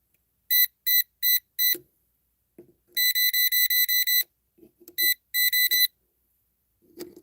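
Non-contact voltage tester in sound mode emits bursts of sharp, high electronic beeps: a quick run of four, then a longer rapid string, then a few more, with faint handling knocks in between and no talk.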